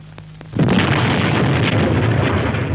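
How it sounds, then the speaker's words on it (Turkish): A grenade blast in the PUBG video game: one sudden loud boom that erupts after a short quiet stretch, then a dense roaring rumble that sustains at full level to the end. "Patladı!"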